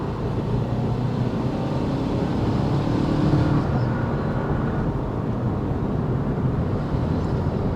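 Steady wind roar inside a 2025 Toyota 4Runner Trailhunter cruising on the highway, a continuous broadband rush blended with low road and engine rumble, constant and fairly loud throughout with no talk.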